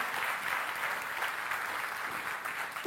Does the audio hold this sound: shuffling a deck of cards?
no